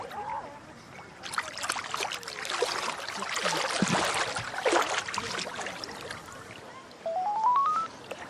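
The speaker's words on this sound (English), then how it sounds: "Phone." A mobile phone rings in the water while someone floats in the Dead Sea. Splashing and sloshing come first, then a short, loud ascending electronic ringtone rises near the end.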